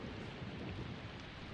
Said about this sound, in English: A damn thunderstorm.